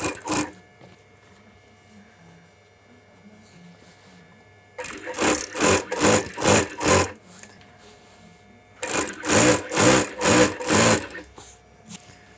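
Sewing machine stitching white thread onto a blue striped shirt, running in two bursts of rapid rhythmic needle strokes, about five pulses each, separated by quiet pauses with faint background hum.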